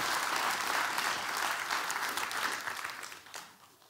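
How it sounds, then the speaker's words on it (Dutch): Warm applause from a lecture audience welcoming a philosophy speaker, dense steady clapping that holds for several seconds and then thins and fades out toward the end. "graag een hartelijk applaus voor Gert-Jan"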